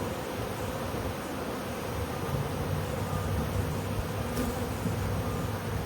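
Bees buzz densely inside a bucket, a continuous close swarm hum that stays steady throughout with no talking.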